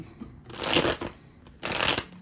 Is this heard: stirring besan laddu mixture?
no